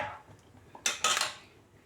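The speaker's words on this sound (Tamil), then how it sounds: "இப்போ இந்த அரைச்சி வச்ச தேங்காயும் இதில் போட்டுறேன்." Metal utensil clinks and scrapes against a cooking pot as ground coconut paste goes into brinjal kothsu, a couple of sharp close clatters over quiet background.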